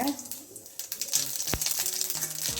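Mustard seeds spluttering in a little hot oil in a pan: rapid crackling pops over a bright sizzle, close, with a sharp knock partway through and faint speech in the background.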